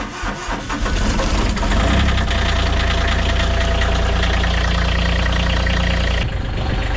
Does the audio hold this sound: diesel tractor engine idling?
yes